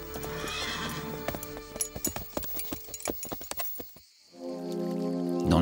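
Horse hooves clip-clop in a quick rhythmic series on hard ground in an animated Christian film, close and fairly loud, then a horse neighs loudly at the end.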